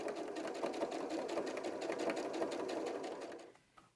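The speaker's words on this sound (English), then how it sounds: "Keep your needle down and just gently curve your fabric around and pivot as you need, and just give it a nice pretty little top stitch." Sewing machine running steadily as it top stitches fabric for an 18 inch doll dress, a continuous close whirring hum that stops near the end.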